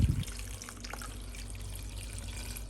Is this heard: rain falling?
no